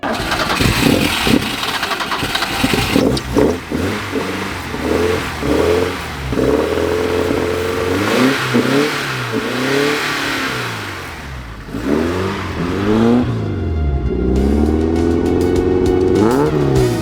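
Alfa Romeo Series 2 road-legal track car, its engine starting and revving hard up close, with repeated rising and falling throttle blips over a rough, loud idle.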